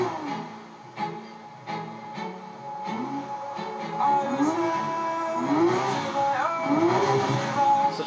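A car engine in the Need for Speed racing game revs and shifts through repeated rising pitch sweeps, loud and continuous with gear changes every second or so, alone without talk.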